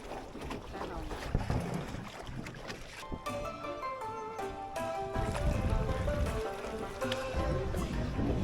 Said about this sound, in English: We need to stay on the river because we're on the boat.